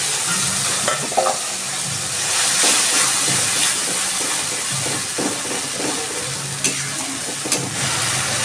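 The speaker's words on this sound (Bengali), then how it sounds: "আমি এবার দিয়ে দিচ্ছি পেঁয়াজ, রসুন, আদা একসাথে পেস্ট করা" Onion, garlic and ginger paste fries in a pan with a steady, loud sizzle and hiss, while a spoon stirs and scrapes in scattered strokes throughout, and no one speaks.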